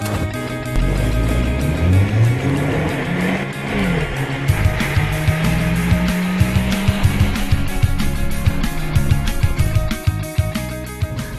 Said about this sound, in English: Let's take it for a drive.